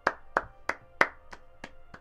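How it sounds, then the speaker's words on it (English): A clapping sound effect from the Kingdom Hearts video game, with seven sharp, evenly spaced claps in quick succession, crisp and close, heard alone. "It's a clapper. You clap it on."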